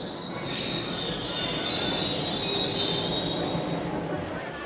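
A London Underground train rolls along the rails with a high metallic wheel squeal over a steady rumble, swelling and fading slightly.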